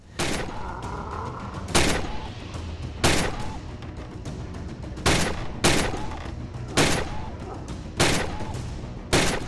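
Gunfire in the VR shooting-range game Gun Club VR: about eight loud, close shots, some single and some in quick pairs, spaced across several seconds, with a faint murmur between them.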